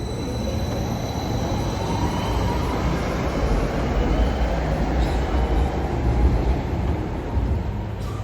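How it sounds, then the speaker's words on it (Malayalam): A U1 metro train rolls into the station with a steady, loud rumble of wheels and carriages, a thin high squeal riding above, and faint talk in the background. "നമ്മൾ ഈ ട്രെയിനിലാണ് കയറുന്നത്."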